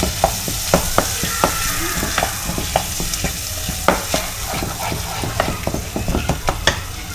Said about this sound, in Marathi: आता मसाला चांगला परतून झाला आहे आपला.